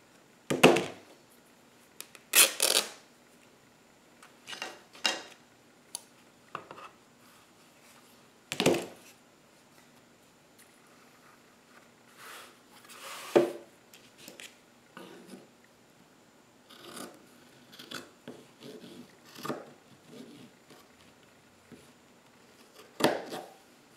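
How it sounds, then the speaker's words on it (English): Ordinary household scissors, not fabric shears, cut through fabric from a seated angle, making a series of close, crisp snips and crunches at an irregular pace, with quiet pauses between them. "These aren't my fabric scissors, and I'm sitting down, which is a funny angle to cut fabric"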